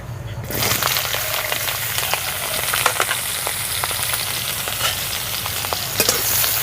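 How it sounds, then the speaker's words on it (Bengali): Chopped eggplant fries in hot mustard oil in a kadai: a loud, dense, steady sizzle with scattered crackles and pops running through the whole stretch, close up, with no voices. "ওই তেলের মধ্যে এক বাটি বেগুন কুচি দিয়ে দিচ্ছি"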